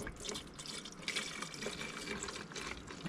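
Fluid poured into a car's reservoir in a workshop, heard as a steady close splashing, trickling stream of liquid running throughout, with no talk over it.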